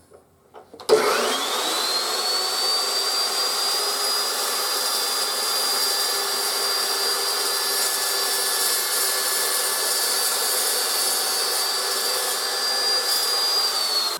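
Loud power tool spinning up and slowly cutting aluminum for a cargo trailer's race storage cabinets, a sharp whining roar that holds at full strength after a brief start.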